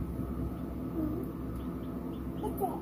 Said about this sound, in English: The chickens hatched out of the eggs, Aubrey?